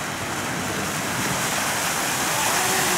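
Muddy flood water pours over a flooded road like a waterfall, a loud, steady broadband rush of falling and churning water that holds constant throughout with no voices.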